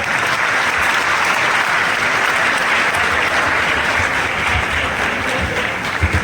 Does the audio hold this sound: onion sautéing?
no